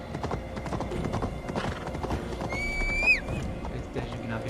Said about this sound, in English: Let's see how far our horse can take us.